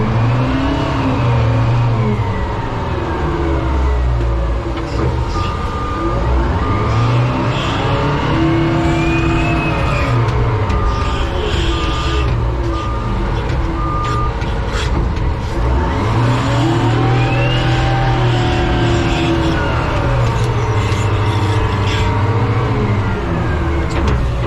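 Detroit diesel engine on a WWII crawler crane running steadily and loud throughout, its droning note rising and falling with throttle as the machine works.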